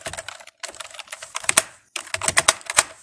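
Fingers typing on a computer keyboard, quick clusters of crisp close key clicks with a short pause in the middle, then another flurry of keystrokes, heard alone without talk.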